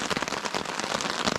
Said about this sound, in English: it's been non-stop rain since we got out the car